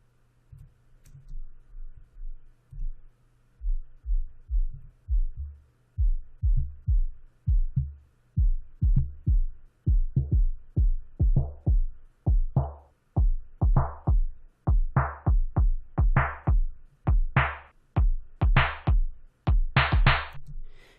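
Synths processed with a tape stop effect pulse in a fast, regular pattern of short notes that grow brighter and louder as they go, with no voices.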